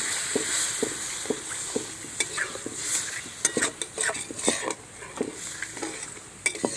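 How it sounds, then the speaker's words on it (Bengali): A spoon scrapes and stirs in a pan of prawn curry masala as coconut milk goes in, giving repeated sharp clinks and scrapes over a soft, steady sizzle, close by with no talking. "এবার আমি নারকেলের দুধটা দিয়ে দেবো।"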